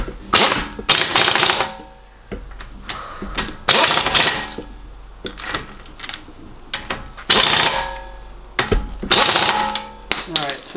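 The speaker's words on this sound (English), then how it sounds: "so that's all I'm doing with the air gun" A pneumatic air impact gun rattles on the front wheel of a 2017 BMW X1 xDrive28i F48 during a brake pad job, delivering repeated loud hammering bursts of about a second each with pauses between and a person talking nearby.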